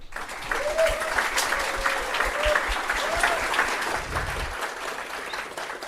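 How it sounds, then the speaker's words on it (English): Audience applause welcoming a speaker to the stage at a Flutter developer conference, steady clapping of a seated crowd lasting several seconds, with a few faint voices underneath. "Please give a big round of applause and welcome Kosuke."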